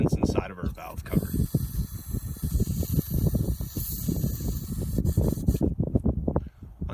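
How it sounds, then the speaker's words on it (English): A sustained Seafoam aerosol spray hisses close by into an open engine valve cover with rapid sputtering pulses, broken by brief pauses. "we can look in and direct our spray at all of the different components inside of our valve cover"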